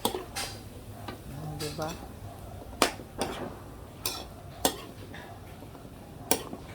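A utensil stirs chicken feet in a cooking pot, with sharp metallic clinks and scrapes at irregular intervals against a quiet kitchen background, and a voice briefly speaks once.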